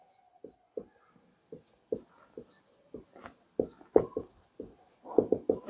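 Marker or chalk strokes on a board, a steady run of short scratchy taps and squeaks, close and fairly quiet, bunching into quicker strokes toward the end.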